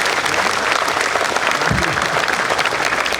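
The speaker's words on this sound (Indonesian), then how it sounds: "Tepuk tangan Babinsa." Dense, loud applause from a large crowd for Babinsa soldiers at an Indonesian army gathering, a sustained wall of clapping with no breaks and a brief low thump partway through.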